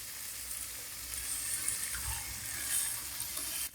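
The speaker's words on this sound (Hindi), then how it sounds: "अब हम इसमें थोड़ा सा पानी शामिल करेंगे।" Water is poured into a pan of frying egg chilli masala, giving a steady close sizzling hiss with a light splashing wash that continues evenly throughout and cuts off at the end.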